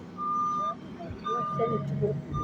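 Reversing beeps from construction machinery such as excavators, cranes and dozers sound as steady repeated tones at an outdoor site, with a vehicle rumble underneath and people talking nearby.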